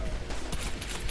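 Continuous gunfire from The Bourne Conspiracy video game during a shipyard infiltration, a dense, loud burst of overlapping shots with no talk over it.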